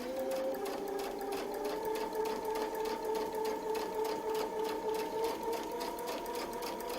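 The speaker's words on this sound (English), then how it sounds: "We're going to stitch across that 1/4 inch again." A sewing machine stitches steadily with a Westalee ruler foot and template, a close, even mechanical hum with a rapid needle rhythm that runs without pause and with no talk.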